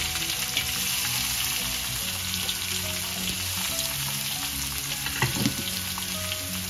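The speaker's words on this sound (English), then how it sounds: "So we're going to add in the onions now." Onions, freshly added to golden garlic in a pan for a vegan tofu curry, fry with a loud, steady crackling sizzle and scattered spatters, heard close with no voices.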